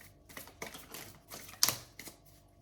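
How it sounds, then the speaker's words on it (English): Tarot or oracle cards being shuffled by hand, a run of soft papery riffles and slaps close by, with one sharper snap near the middle and no talking. "Shuffling for Cancer."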